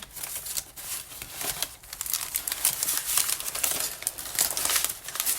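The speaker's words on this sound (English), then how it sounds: "I'll just flip through a couple of them." Sheets of coffee-dyed copy paper are flipped through up close, giving a quick series of dry crinkles, rustles and papery snaps, with no talking.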